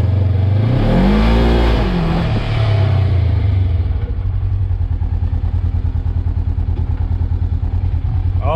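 Polaris RZR 900 S UTV engine revs up and falls back as it shifts gears, then settles into a loud, steady rhythmic idle-like chug, close to the microphone, with some rattling.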